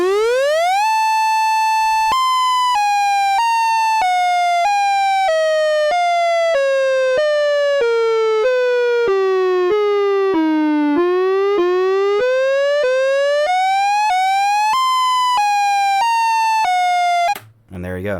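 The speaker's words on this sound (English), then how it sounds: "that is going to give it its alternating wail effect" Synthesized Siren Head wail: a loud electronic siren tone stepping down in pitch then climbing back up in an alternating pattern, sustained for most of the stretch before cutting off abruptly, with no voices.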